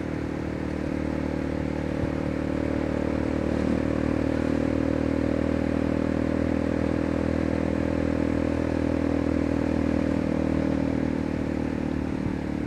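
Motorcycle freshly back from a service, riding steadily through town, with a constant close engine drone and road rumble throughout and occasional light clatter, no talking.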